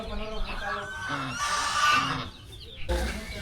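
Geese and ducks squawk and honk in a noisy backyard fowl pen, harsh overlapping calls rising to a louder burst midway, with some talk mixed in.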